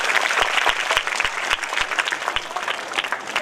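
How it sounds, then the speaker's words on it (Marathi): Audience applause for schoolgirl students after their performance at a school prize-distribution ceremony, a dense steady patter of many hands with a few sharper claps standing out, lasting throughout. "आपल्या या विद्यार्थिनींसाठी एकदा जोरदार टाळ्या."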